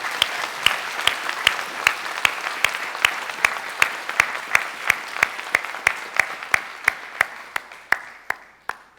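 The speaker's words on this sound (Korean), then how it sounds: "하나님께 영광의 박수 올려드리겠습니다" A church congregation claps in unison after a children's choir performance at a Korean Sunday service, a steady stream of sharp claps about three per second that thins and fades near the end.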